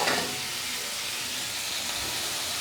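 Jackfruit seeds and taro stolons fry in hot spiced oil, giving a steady, dense sizzle that stays loud and even throughout with no voices.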